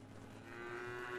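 A single cow in Craftopia lets out a quiet, drawn-out moo of about a second, heard alone against a soft background.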